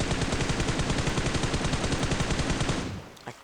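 Rapid automatic gunfire in the PUBG Mobile battle-royale game rattles continuously and loudly for about three seconds, then breaks off, followed by one lone, softer shot.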